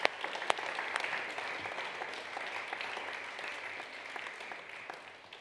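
A church congregation applauds fathers steadily for several seconds on Father's Day, dense clapping at a moderate distance that slowly fades toward the end.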